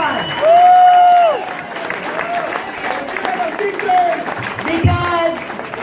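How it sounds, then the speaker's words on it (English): An audience at a political campaign event in Taos, New Mexico applauds and cheers for the educators in the room, a burst of clapping with whoops under amplified speech and feedback-like tones. "Give them a round of applause."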